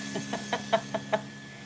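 Hens cluck in a short series of about six quick, clipped calls, close by, with a faint steady hum underneath.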